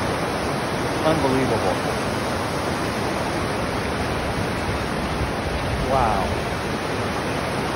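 A river full of speckled trout rushes past in a steady, dense wash of water noise. Up close, a man briefly exclaims over it.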